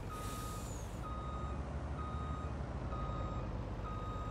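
A truck backs up in Farming Simulator 19, its reversing alarm beeping at an even pace about five times over a steady low engine rumble, with a brief hiss of air at the start.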